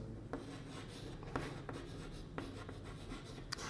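Chalk or marker writing a physics formula on a classroom board, steady scratchy strokes with a few sharper taps, close and fairly quiet, no voices.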